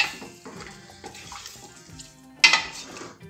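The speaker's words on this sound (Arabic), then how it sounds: "دابا ندير هاد الماء غير باش تشحل" Water runs and splashes into a cooking pot for a tagine of lamb with green beans, a continuous pour under light clinks of a pot, ending in a louder burst of splashing.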